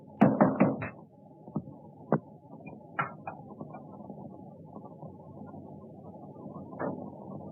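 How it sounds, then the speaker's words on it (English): Several sharp knocks at a door in a 1935 British mystery film, a quick cluster of raps at the start followed by a few single isolated knocks over a low steady room hum. "I heard a knock at the door."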